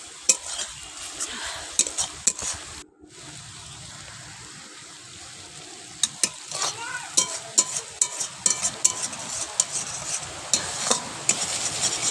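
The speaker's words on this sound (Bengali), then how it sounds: "ভালোভাবে আমি কষিয়ে নেব যাতে আধার গন্ধটা না থেকে যায়" Spice paste for a pointed gourd curry is stirred and fried over a high flame, loud crackling sizzle broken by repeated scraping strokes of a spatula against the pan, busier and more rhythmic toward the end; no voices.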